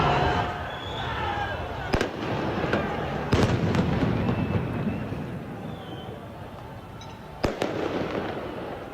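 Gunfire and fireworks go off at a large street demonstration against vaccines, with sharp cracks and bangs at scattered intervals over a constant crowd roar and voices, some blasts loud and near, others fainter.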